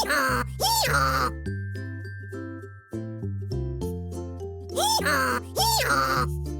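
A donkey brays in two loud hee-haw bursts at the start and two more near the end, with a cheerful children's tune playing in between.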